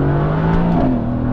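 A Mercedes-AMG GT engine revving, a loud, close, continuous mechanical drone whose pitch holds steady and then shifts as the revs change, with no voices over it.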